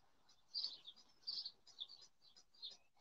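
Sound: birds singing outside

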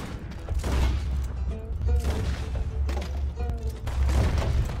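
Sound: gunshots in the video game Red Dead Redemption 2

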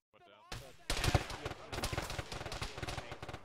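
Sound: heavy gunfire in a military video game

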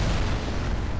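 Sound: rumbling impact of oversized spears, Dark Souls III video game

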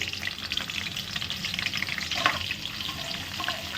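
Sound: cumin, mustard seeds and asafoetida frying in oil

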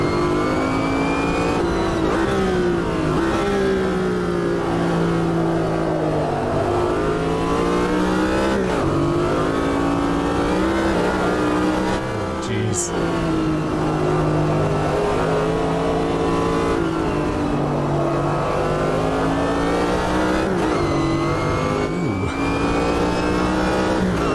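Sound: race cars at Hockenheim historic race, Corvette GTP

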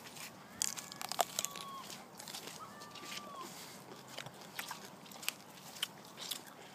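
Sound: eating a crunchy cucumber

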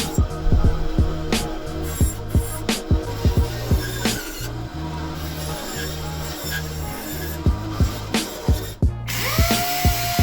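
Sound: jigsaw cutting a semicircle

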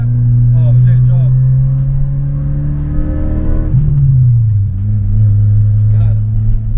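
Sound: Volkswagen Santana sedan engine revving and driving

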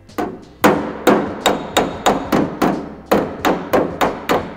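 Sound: hammer tapping sheet metal tack against a dolly

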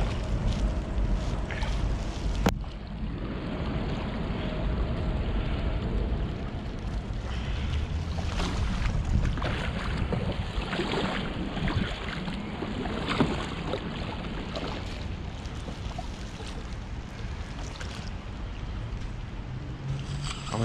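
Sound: paddling a ski kayak on canal water

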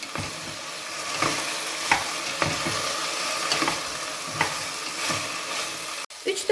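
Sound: vegetables with broccoli sautéing in pot

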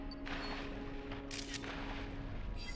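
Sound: Clawitzer Pokémon shooting in the video game New Pokémon Snap

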